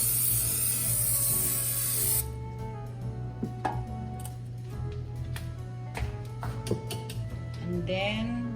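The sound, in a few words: spraying baking pan so banana bread doesn't stick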